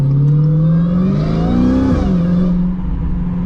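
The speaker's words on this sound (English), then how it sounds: "that supercharger whine combined with that insanely dirty V8 exhaust is just the stuff of dreams and the stuff of legends" Supercharged 888-horsepower Dodge Hellcat XR widebody V8 revs loudly and up close, a steady high supercharger whine riding over a rough, dirty exhaust note that climbs and then dips back.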